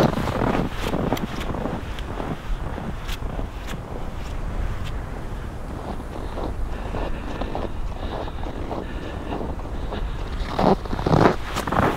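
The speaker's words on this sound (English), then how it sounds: "The wind has really been whipping through here, causing some of these crazy snow drifts." Wind whips across a snowy winter landscape, buffeting the microphone with loud, continuous rushing gusts and scattered rustling bumps.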